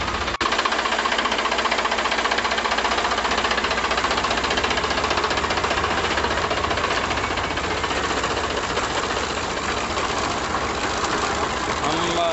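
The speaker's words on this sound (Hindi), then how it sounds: "पाइप लेके गन से स्प्रे कर रहे हैं, ट्रैक्टर पंप है मेरा" Tractor-driven pump spraying pesticide through a hose gun on a sweet corn field, a loud steady engine drone with knocking vibration running continuously close by.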